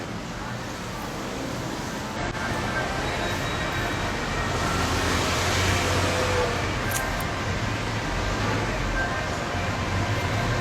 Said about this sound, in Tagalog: Ang ingay naman ng jeep.